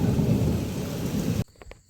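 Heavy rain pours with a deep rumble of thunder, a dense, loud roar that cuts off abruptly partway, leaving only faint ambient sound.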